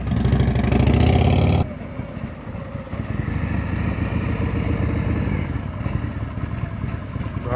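A motorcycle engine runs during slow-speed riding practice through cones: a loud close rev cuts off abruptly, then low idling and gentle throttle continue steadily, alone without voices.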